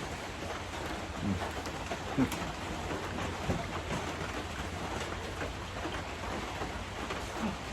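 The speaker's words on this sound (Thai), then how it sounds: "ตอนนี้ฝนตกก็เลยเข้าไปในศาลาครับวันนี้" Rain falls around a Thai temple sala in Nong Bunnak on a dark, overcast day, a soft, steady hiss of drops with a few faint bird calls and knocks scattered through it.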